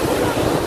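River water surges hard through a dam, giving a dense, steady rushing roar that sits close and loud, with no voices heard.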